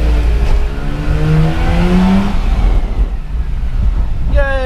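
A JDM car's engine revs at a car meet convoy arrival, rising harmonic engine tones climbing in pitch then fading, with another rev sweeping up at the end over steady outdoor road and crowd noise.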